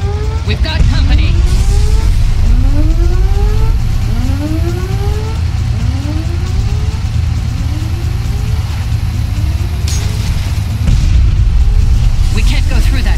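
Vehicle driving in the Far Cry video game, a loud continuous engine drone with rising, repeating gear-shift sweeps and occasional bangs, played under background game voices.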